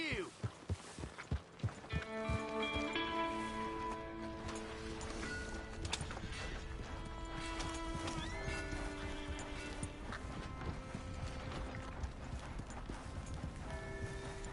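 Horse hooves clip-clop in a quick run of beats, then a horse neighs and whinnies amid game music and ambience in the video game Red Dead Redemption 2.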